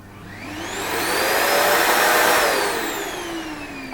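A Nilfisk Extreme vacuum cleaner runs steadily, its motor whine rising as it spins up, holding a loud hissing roar, then easing slightly before a brief click at the end.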